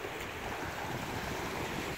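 Sea waves wash against the shore at the rock garden in Malvan, Sindhudurg, on the Konkan coast, a soft continuous surf mixed with wind noise, distant and fairly faint with no voices.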